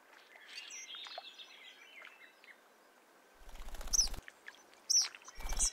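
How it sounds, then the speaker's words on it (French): Marsh birds call and chirp over a soft background of distant twittering, with sharper, louder calls and some fluttery rustling building toward the end. "Les oiseaux reprennent leurs activités normales"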